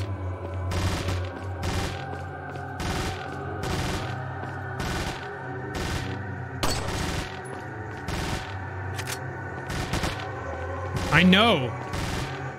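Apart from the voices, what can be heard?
Leon panic firing a gun in Resident Evil 4 video game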